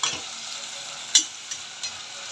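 Food sautéed in a pan gives a continuous soft sizzle, broken by a few sharp scraping clicks of a utensil stirring against the metal.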